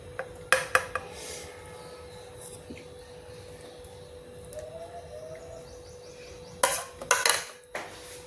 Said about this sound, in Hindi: तो अब देखिए, हम इसको सर्व कर रहे हैं।